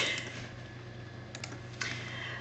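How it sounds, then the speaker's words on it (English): Typing on a computer keyboard: a few soft, scattered keystroke clicks over a low, steady background hum, quiet and close, with no talking. "I'm going to pause for a second and type this all in for you"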